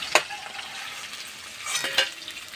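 Lote (Bombay duck) fish frying gently in oil, a soft low sizzle beneath two sharp utensil scrapes or clinks as pieces are lifted from the pan, no speech.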